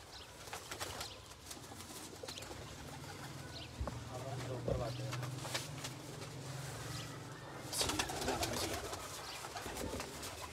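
Teddy pigeons with pink and red eyes, kept for sale, coo in repeated low throaty calls with occasional wing flutters, while people talk in the background.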